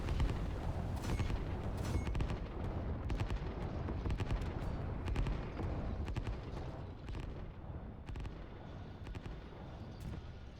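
Rocket strikes and battle fire in the Line War strategy game: repeated sharp blasts and booming impacts over a continuous rumbling mix that thins out toward the end.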